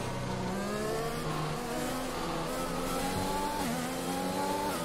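Formula 1 race cars roar past one another during an overtake in F1 2021, high engines whining and rising in pitch as they accelerate, steady and loud with overlapping engine notes.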